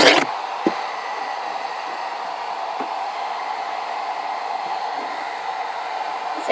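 A hair dryer blows a steady, loud, broadband hiss that runs unbroken throughout, with a few faint knocks and rustles nearby.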